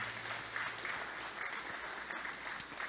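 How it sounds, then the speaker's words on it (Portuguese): A congregation in church bursts into steady applause, a dense wash of clapping heard at a distance and low in level, continuous across the moment. "Aplaude, ele aplaude"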